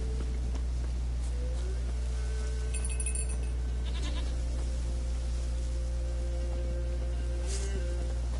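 A goat bleats a few times in the video game The Witcher 3, over a steady low hum and ambient background, with brief higher tones in between.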